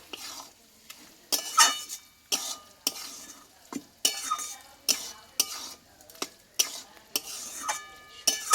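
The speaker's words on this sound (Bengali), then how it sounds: "ঘিটা দিয়ে আমি আরও কিছুক্ষণ একটু নাড়াচাড়া করে নেব" Banana stem curry stirred with ghee and garam masala in a pan, a sharp, regular series of spatula scrapes and clacks against the metal over a faint sizzle, close and clear with no talking.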